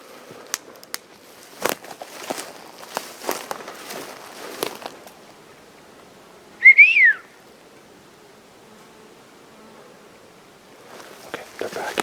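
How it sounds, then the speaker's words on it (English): A single short rising-and-falling whistle rings out once midway, fairly clear against a quiet outdoor background with scattered rustling and clicks. "There's whistles coming from all over the place over here"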